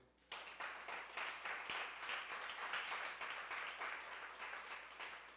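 A church congregation breaks into applause during an evening service, a sudden burst of dense clapping from many hands that carries on steadily, heard from a distance with some room echo.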